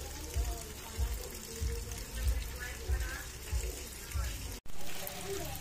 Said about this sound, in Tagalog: Naglalagay na ulit siya ng tubig.